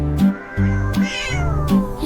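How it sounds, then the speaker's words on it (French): A cat meows loudly and close up, three or four drawn-out, tonal cries in quick succession with no talk around them. "Le chat sauta haut à travers les rayons de la lumière des étoiles."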